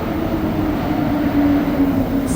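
A Montreal Metro AZUR train runs with a steady, loud, continuous rumble and a faint tonal whine, with no one talking.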